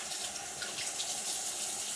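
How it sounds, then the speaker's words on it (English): Warm water runs steadily from a tap during handwashing, a continuous close splashing hiss into the sink with no voices. "So turn the water on, get them rinsed, get the soap, and wash."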